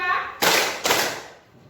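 A group claps in unison during a counting game, two sharp, loud claps about half a second apart, each ringing briefly in the room.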